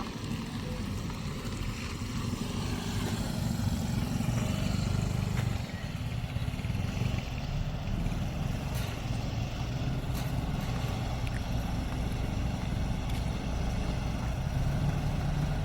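Steady engine drone and rushing wind aboard a passenger boat heading to Cebu, a constant loud rumble with gusty noise throughout.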